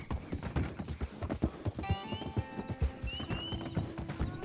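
Rhythmic clip-clop of horse hooves at a steady trot in Red Dead Redemption 2, fairly close, with a brief whinny and some tonal chimes in the background.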